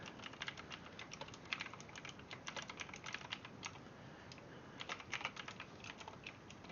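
Someone types a username and password on a computer keyboard, a quiet run of close, uneven key clicks with short pauses, no voices.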